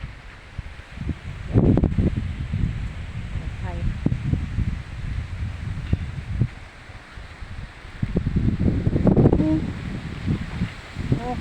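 Cold wind gusts rustle through leaves in a continuous outdoor wash, with a voice speaking intermittently over it.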